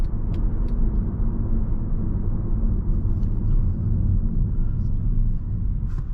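Mercedes W204 C300 under way and picking up speed, a steady loud low engine and road rumble filling the cabin without a break, with faint high ticks over the top.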